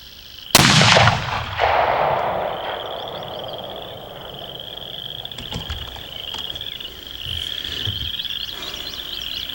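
A single loud, close rifle shot from a Savage Axis II in .30-06 on an outdoor 100-yard range cracks and booms, then fades into a long tail of frogs and insects chirping steadily in the background.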